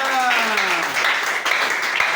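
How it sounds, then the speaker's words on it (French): Loud applause from a church congregation, dense steady clapping filling the whole short stretch, with a voice briefly audible at the start. "Acclamez très fort."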